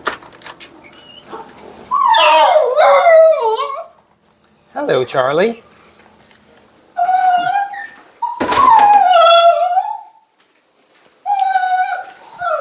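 A dog named Charlie at a dog park whines and yelps in high, wavering cries, several distinct outbursts loud and close, mixed with a person speaking to him.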